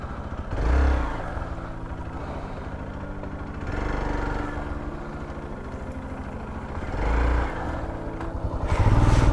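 A motorcycle turning around on a narrow footpath hiking trail among deodar trees near Mussoorie. Its engine idles close by and swells into three short revs, with no talk.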